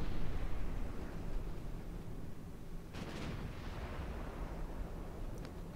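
The main guns of a warship in Ultimate Admiral Dreadnoughts fire, sending out a continuous low, rumbling roar of distant booms with a sharper blast partway through.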